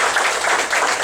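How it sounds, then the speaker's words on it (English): An audience at a spiritual talk in Dallas gives a round of applause, a close, fairly loud and continuous patter of many hands clapping with no voices over it. "Give a big clap to him."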